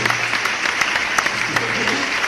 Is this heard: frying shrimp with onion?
no